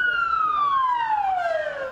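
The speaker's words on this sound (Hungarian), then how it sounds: "A szirénák hangja azonban hamarosan elnyomta a zenét." Emergency vehicle siren at the scene of a New Year's nightclub attack in Istanbul: a single loud, steady wail sweeping slowly downward in pitch, with faint traffic noise underneath.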